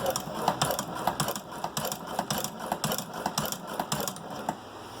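A Chinese hand-crank sewing machine stitches fabric in a steady, close mechanical clatter, its rapid rhythmic ticks pulsing evenly and fairly loud with no voices.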